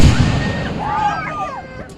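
Fireworks at an Independence Day show, a loud low boom rolling and fading over two seconds while voices talk faintly over it.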